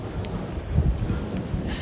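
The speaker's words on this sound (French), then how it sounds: "on est en train de se prendre la pluie" Rain falls on an outdoor live stream, a steady hiss with low rumbling buffets of wind against the microphone and a few faint taps, with no voices.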